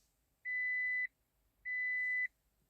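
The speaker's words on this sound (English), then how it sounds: "I don't know why it's beeping at me." Door-open warning chime in a 2018 Toyota Avensis 1.8 Valvematic, two steady electronic beeps about half a second each, evenly spaced and clear in a quiet cabin.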